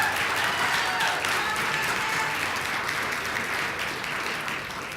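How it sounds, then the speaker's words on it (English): A crowd applauds the Falcons after they win the championship of the Riverside Holiday Tournament, with dense, steady clapping that fills the room and slowly fades toward the end. "please, round of applause"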